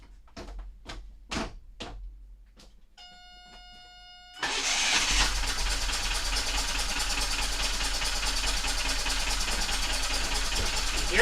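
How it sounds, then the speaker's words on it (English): A boat engine with an air intake problem runs rough, loud and steady after a sudden start, its uneven chugging held at close range with brief clicks and knocks before it fires. "the engine's running super funny"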